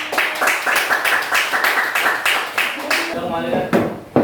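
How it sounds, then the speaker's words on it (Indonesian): Classroom applause for a student group, a burst of quick, fairly close clapping from a small room of students with a few voices mixed in and a teacher's voice near the end. "Kita beri tepuk tangan."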